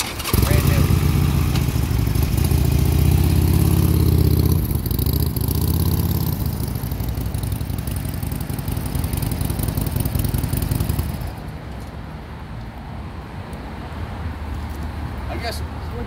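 A 2020 Harley-Davidson Sportster Iron 1200 with its 1200cc engine idles loud and close in a rumbling, throbbing pulse, then drops to a quieter, softer idle for the last few seconds.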